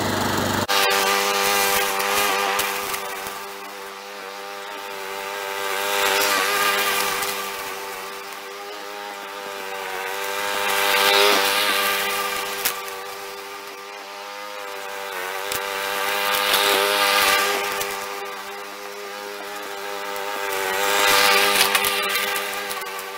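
A flood-damaged lawn mower engine runs steadily for a long stretch, a loud, close, continuous drone that swells and dips in slow waves as it warms up, with no talking.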